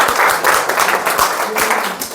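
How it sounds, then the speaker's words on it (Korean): Applause from attendees at a small Korean community forum after a lecture, a short, fairly close burst of clapping with uneven, pulsing hand claps. "박사님께 박수"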